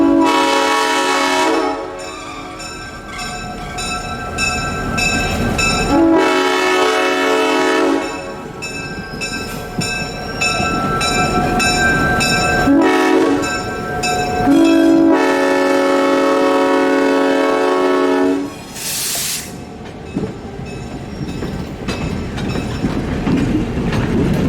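ALCO diesel locomotives of the Shenandoah Valley Railroad, including an RS11, gather their train and sound a loud multi-chime horn in repeated long blasts close by. Each blast is broken by short gaps, and engine rumble fills the spaces between them.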